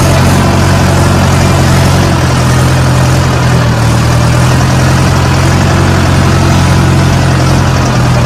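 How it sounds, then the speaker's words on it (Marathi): A tractor freed after being stuck in mud during a village dahi handi festival, its heavy diesel engine running loud and steady up close, with a constant low throbbing drone throughout. "आता ट्रॅक्टर फसलेला होता तो निघले मित्रांनो."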